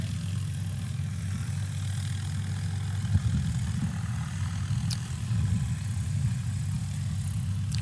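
STOL aircraft engine in a landing competition, a steady low drone at moderate distance that holds evenly throughout, with a slight swell midway as power comes on.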